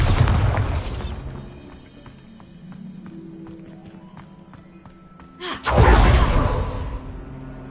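A Bombarda blast spell from a Harry Potter video game: a loud, sudden booming burst near the end, preceded by a quieter stretch of ambient game sound and an earlier burst at the start.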